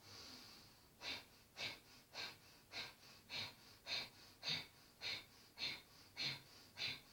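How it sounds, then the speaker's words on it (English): Rapid rhythmic forceful exhalations of yoga Kapalabhati breathing, about a dozen sharp puffs pumped at an even pace roughly twice per second, close but fairly quiet. "Pumping breath."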